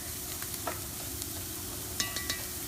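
Chili powder and onion cooking in a pan, with a steady low sizzle throughout and a few sharp clinks of a utensil stirring against the pan near the end; no talking.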